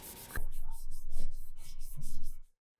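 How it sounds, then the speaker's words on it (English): Rapid, steady back-and-forth scratchy strokes of 400-grit sandpaper rubbing a carved koi fish okimono up close, about two seconds long, then silence. "We'll now increase the sanding using a 400 sandpaper"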